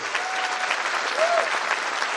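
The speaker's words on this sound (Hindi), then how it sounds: "तालियां अगर देनी चाहिए, तो दिल से बजाना हमारी कंपनी के एमडी साहब को।" An audience at a network marketing company event applauds the company's managing director, a dense, continuous burst of clapping heard up close and fairly loud, with faint voices underneath.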